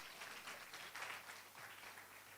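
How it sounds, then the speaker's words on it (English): Audience clapping to welcome a bank association CEO at a financial literacy conference, soft and distant, a brief steady patter of applause. "Let's welcome him with a clap."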